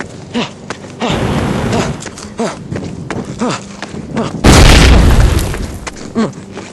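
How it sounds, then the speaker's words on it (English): A loud, broadband burst from an erupting volcano, Mt. Starhawk, hits partway through and roars on for about two seconds, after a run of heavy thuds and boomy impacts mixed with faint voices. "Mt.Starhawk just exploded"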